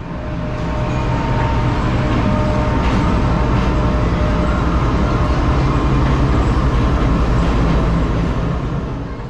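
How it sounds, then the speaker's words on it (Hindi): Khyber Mail passenger train pulling into the adjacent platform at Rohri Junction, a loud, steady rumble of rolling wagons and wheels on rail that swells and fades gently. "कराची और पेशावर के दरमियान चलने वाली वन अप खैबर मेल भी हमारे बराबर वाले प्लेटफॉर्म यानी कि प्लेटफॉर्म नंबर 4 पर आ गई"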